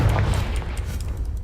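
A Confringo fire spell blasts in Hogwarts Legacy: a single loud, close booming explosion that tails off into a rumbling, crackling decay over about a second and a half.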